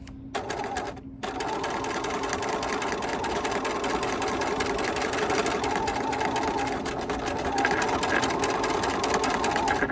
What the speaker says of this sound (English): I'm just going to keep stitching down the side of this open edge